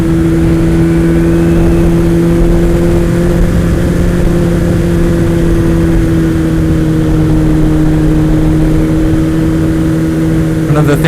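A Kawasaki ZX-12R motorcycle engine drones steadily while riding, a loud, sustained hum with a constant pitch and wind rush throughout.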